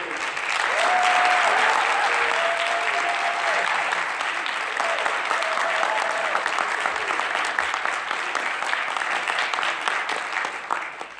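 Audience at the NYCETC 2017 policy forum applauding to welcome Public Advocate Tish James, steady loud clapping that holds throughout and tapers slightly toward the end, with a few voices under it.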